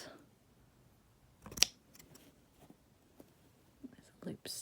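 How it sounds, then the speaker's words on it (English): Good fabric scissors snip embroidery loops on Turkey work tufting, a few crisp close cuts with one sharp snap standing out, among soft rustling and faint whispered speech. "these are my good fabric scissors"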